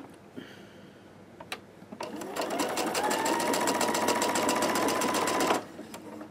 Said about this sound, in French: il me reste le petit triangle du haut à coudre en place ici